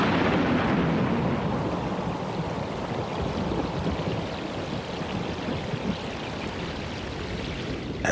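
Ocean storm with rumbling thunder, a steady, dense roar of wind, rain and crashing water that carries on without a break, loud and close, with no voices.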